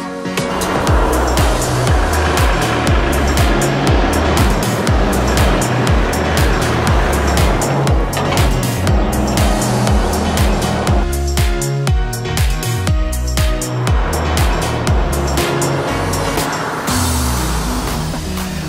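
A Volvo FH 540 logging truck rolls along the road, its engine a loud, steady low drone with road and wind rush heard from inside the cab throughout.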